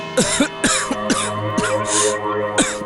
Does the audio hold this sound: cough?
yes